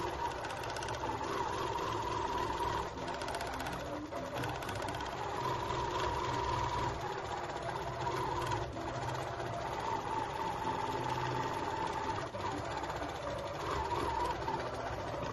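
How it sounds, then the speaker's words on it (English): A longarm quilting machine runs steadily on a quilt, a continuous mechanical hum with a faint rhythmic stitching rattle and occasional small knocks, even in level throughout with no talking. "Here you can see the long arm running, and it's looking really good."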